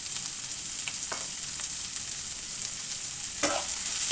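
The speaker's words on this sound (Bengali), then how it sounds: "সবগুলো এখন কিন্তু এভাবে ভেজে নেব" Chilies, ginger and garlic frying in a pan for a fig and taki fish mash, giving a steady close sizzle with a few brief stirring scrapes and no talk.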